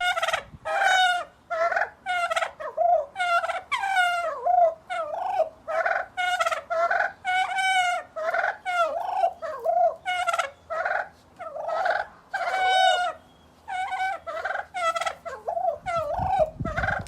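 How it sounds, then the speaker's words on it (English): A group of turkeys gobbles again and again, with bursts of rapid, warbling calls that overlap and repeat at irregular short intervals. The calls are close and clear, and no one speaks. "What do you think these turkeys are talking about?"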